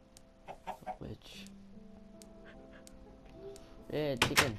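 A Minecraft chicken clucks in short bursts among other game sounds, with a low tonal hum running through the middle and a louder burst of harmonic mob noises near the end.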